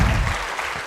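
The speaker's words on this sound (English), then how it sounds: "2 rounds of spontaneous applause." Audience applause at a forum on wealth creation, a brief burst of dense clapping under a second long, fairly close and loud.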